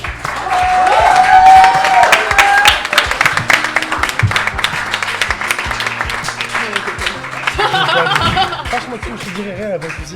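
Audience applause for three contest winners, loud and steady for about ten seconds, with laughter and chuckling mixed in and a voice talking over the clapping.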